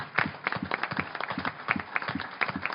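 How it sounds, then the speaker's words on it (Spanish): Audience applause at a book presentation honoring an ambassador: moderate, steady clapping from a small crowd, individual claps distinct and irregular, continuing evenly without voices. "Bueno, sí, obviamente hay que aplaudirlo"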